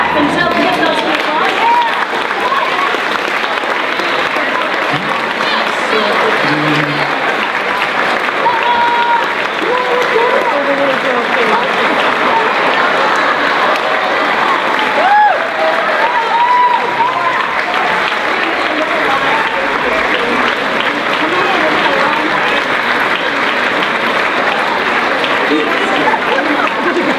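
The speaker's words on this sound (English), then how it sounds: "we're going to clap until we get those people" Staff audience at an all-staff kickoff clapping continuously to call volunteers on stage: a dense, loud, unbroken wall of applause lasting almost half a minute, with voices mixed into the crowd.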